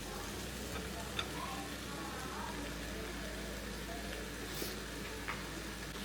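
Shallow-fried potatoes are stirred into an egg and potato gravy in a pan, giving a steady, soft sizzle with faint scrapes and light clinks throughout and no talking.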